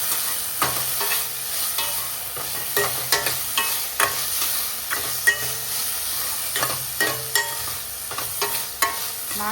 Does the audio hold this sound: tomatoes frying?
yes